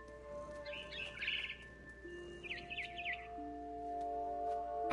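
Birds chirp in the video game What Remains of Edith Finch, two brief bursts of twittering calls over a soft ambient hum and sustained musical tones, fairly quiet.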